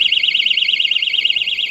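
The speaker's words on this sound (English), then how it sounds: "As you can hear, we have a data tool alarm as well." A loud motorcycle security alarm wails steadily, a rapid warbling tone pulsing without pause.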